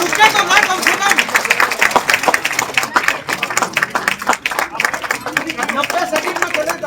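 Guests clap at a biography book launch during a cake cutting, a dense burst of close applause mixed with chatter and voices throughout.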